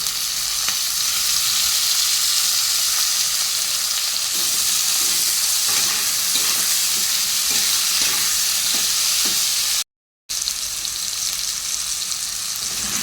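Ginger and tomato fry in a pan with a loud, steady sizzle and crackle, punctuated by rhythmic stirring scrapes, broken by a brief cut to silence before the frying resumes.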